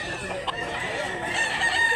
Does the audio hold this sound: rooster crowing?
yes